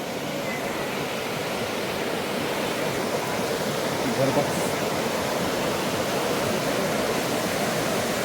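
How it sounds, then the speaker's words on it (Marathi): River water flows along a bank in Marburg, Germany, an even, unbroken rushing wash that fills the scene at moderate volume without pause. "नदी किनारी आवाज आहे"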